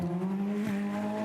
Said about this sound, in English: 10-cylinder, normally aspirated. Really distinct engine note.